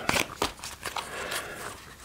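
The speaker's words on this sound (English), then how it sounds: "Quick little shuffle of these." A deck of tarot cards gets a quick shuffle, a few close papery riffles and flicks in the first second that fade into a soft rustling texture.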